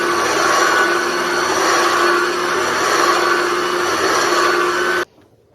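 An AMZ CHEF cold press juicer runs steadily while juicing fresh pineapple, a loud constant motor whir with a grinding edge that cuts off abruptly near the end and leaves quiet.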